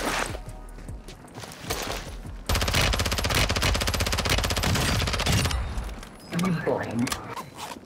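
Rapid automatic gunfire rattles in a Call of Duty Warzone match on Ashika Island, a dense sustained burst of shots between stretches of someone talking.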